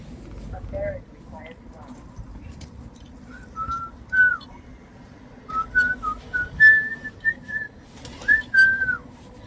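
Someone whistles a song in clear, sliding notes, with short pauses between phrases, over a low background rumble and light clatter.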